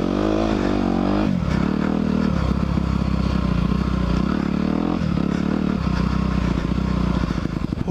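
A 2021 Honda CRF 250R dirt bike revs hard and steadily, its rear tire spinning and scrabbling through deep ruts, the engine loud and close throughout with rising and falling throttle bursts.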